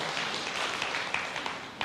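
An audience at a sermon claps in a brief burst of applause, a dense crackle of hands that fades toward the end.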